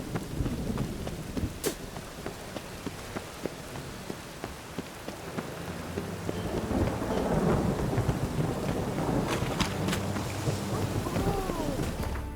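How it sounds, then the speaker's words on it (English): Steady rain and rolling thunder in The Witcher 3 video game, with a continuous downpour hiss, a sharp thunder crack early on, and the rain and rumble swelling louder in the second half. "rain."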